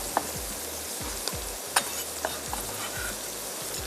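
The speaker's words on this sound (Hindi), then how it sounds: "थोड़ा सा इसको स्टर फ्राई करते हैं।" Julienned carrots stir-fried in a pan with spices and sauce for chicken kung pao rice: a close, continuous sizzle, broken by regular scraping strokes of a spatula stirring the vegetables.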